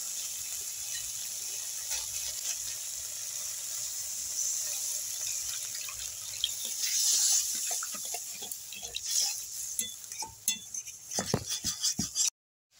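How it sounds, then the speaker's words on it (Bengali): Water is poured into a simmering fish curry in a home kitchen, a steady close hiss and trickle, followed by clinks and taps of a utensil against the pot toward the end. "এর মধ্যে আমি জল দিয়ে দেবো।"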